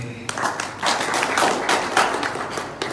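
A small audience at a community Eid reunion gathering gives a brief round of clapping, with bursts of claps close by over a few seconds.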